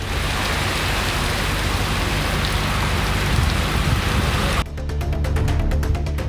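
Heavy rain pours down at night in Perambalur, Tamil Nadu, in a dense, steady roar, loud and close, without a break or any voices.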